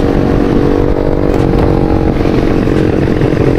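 A Yamaha Vixion 200 motorcycle with an upgraded, tuned engine runs loud and steady at close range, a continuous throbbing drone with a raspy mechanical clatter and no talk.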